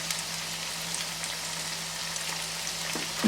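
Steady, close sizzling of ginger garlic paste frying in a hot pan, a continuous crackling hiss with no talking.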